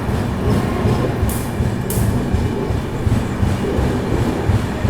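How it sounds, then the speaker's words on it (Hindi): A train speeds past a railway crossing with a loud, steady rumble and rhythmic wheel clatter throughout, close by, with a couple of brief high squeals. "ट्रेन इतनी स्पीड में निकलती है कि मालूम नहीं पड़ता भाई कि ट्रेन कौन सी है"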